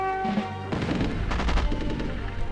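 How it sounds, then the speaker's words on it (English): Gunfire in the World War II era of the strategy game Rise of Nations, a rattling series of shots and booms over ongoing game sounds. "We'll open fire, we will kill them all."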